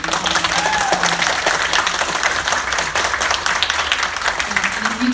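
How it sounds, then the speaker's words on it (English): Audience applause closing a TV and film panel, a busy patter of clapping from a crowd with some voices mixed in throughout. "let's give these guys a big round of applause"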